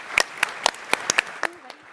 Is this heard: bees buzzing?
no